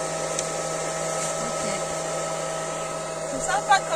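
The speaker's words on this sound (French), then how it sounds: "on soulève un petit peu le lanterneau et on envoie un sèche-cheveux pour sécher" A hair dryer blows into the gap under a partly raised skylight, giving a steady whining drone that holds at the same level throughout, with a few faint knocks near the end.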